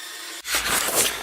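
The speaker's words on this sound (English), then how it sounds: "we'll saw this in half on the bandsaw" A bandsaw cuts through a block of wood to split it in half for a box, with a loud, steady blade rasp that starts abruptly after a brief quiet and runs close up to the end, no talk.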